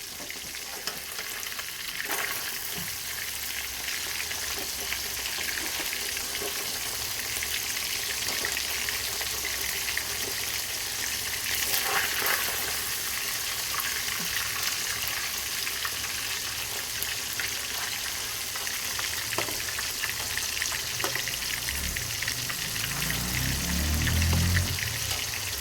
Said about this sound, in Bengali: মাছগুলোকে আমি এপার থেকে ওপার উল্টে দেব, যাতে ভালোভাবে ভাজা যায়।